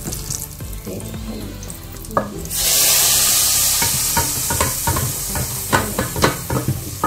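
Homemade nihari masala, about a teaspoon, cooks in a pan for mutton nihari, with scattered stirring clatter that gives way to a loud, steady sizzle partway through, continuing under the clinks of utensils.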